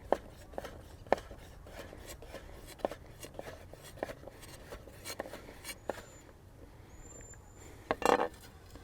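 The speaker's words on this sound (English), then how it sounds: "slice it into strips to start, and then you can just cut it down the zucchini like this" A knife cuts zucchini into strips on a cutting board, giving a steady series of crisp, close taps and thuds at roughly one-second intervals, fairly quiet, with a short louder clatter near the end.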